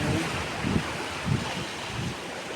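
Sea waves roll in at Shek O Beach, a steady wash of surf with soft swells breaking every half second or so under wind noise, fairly distant and even.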